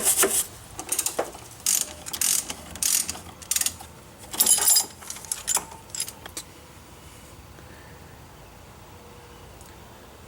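A ratchet drives a T40 Torx bit to back out a bolt on a 2005 Chrysler Town & Country front strut job. Close, crisp bursts of pawl clicking come in uneven spurts, then fade to near silence.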